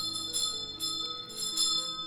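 Bells ring in a steady, resonant peal with sustained overlapping tones, used as a haunted house sound effect for a London townhouse.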